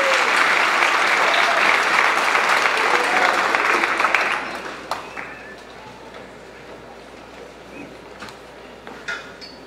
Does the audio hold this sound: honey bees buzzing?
no